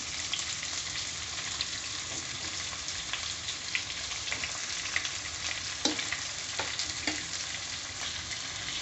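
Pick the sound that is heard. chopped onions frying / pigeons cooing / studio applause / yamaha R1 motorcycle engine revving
chopped onions frying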